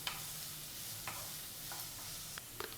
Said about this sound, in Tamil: இதை வந்து நல்லா வதக்கிடணும்.